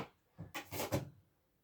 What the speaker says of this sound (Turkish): Çekmeceme bakayım.